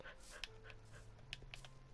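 A dog in a Minecraft-style video game pants softly and quickly in a steady rhythm, with a few faint higher yips and clicks over a low hum.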